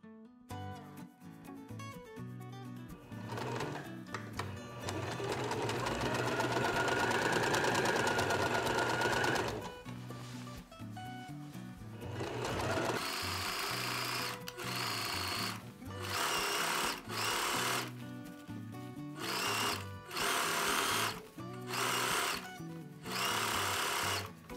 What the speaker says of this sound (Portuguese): Vou alinhavar tudo pra gente costurar.